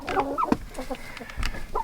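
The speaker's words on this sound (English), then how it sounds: "we have chickens." Chickens cluck in a series of short, close calls, with a few sharper squawks mixed in and no talking.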